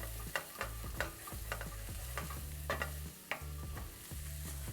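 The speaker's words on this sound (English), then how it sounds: "get the onions, the mushrooms, it's all frying up nicely." Onions and mushrooms sizzle in a pan as the base for a red wine sauce, with a soft steady frying hiss broken by repeated clinks and scrapes of stirring, quiet and close.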